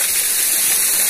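Waterfall in a natural setting, a loud, steady broadband rush of falling water that stays constant and close with no pauses.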